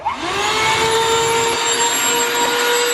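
A vacuum cleaner runs loud and close, a steady high whine and roar as it sucks up leaves and debris at the front of a house, with no speech.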